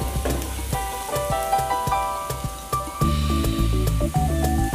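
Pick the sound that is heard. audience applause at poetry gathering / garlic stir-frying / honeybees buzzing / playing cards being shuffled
garlic stir-frying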